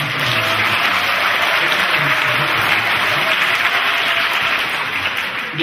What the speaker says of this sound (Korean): 네, 큰 박수